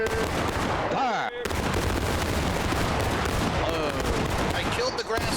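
A musket volley in War of Rights, a dense and sustained roar of overlapping shots that continues almost without a break, with faint voices underneath.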